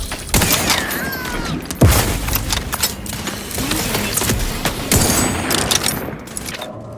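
Gunfire in The Outer Worlds 2 during a firefight: a dense, sustained stream of loud shots and impacts over layered game noise, with several sharper cracks standing out.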